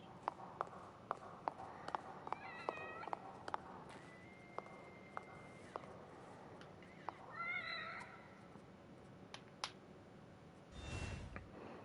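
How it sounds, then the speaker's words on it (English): Cat meowing in The Evil Within's The Assignment DLC, a few faint, short, high meows around the middle of the passage amid scattered clicks and soft footstep-like taps, with a brief louder rumble near the end. "The kitty."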